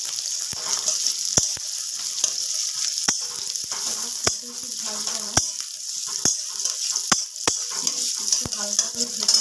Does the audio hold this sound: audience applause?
no